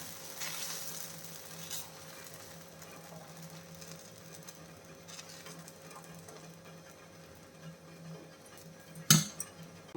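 Rice dosa batter made from ration boiled rice sizzles softly and steadily on a hot pan as it is poured. A brief utensil clatter is heard near the end.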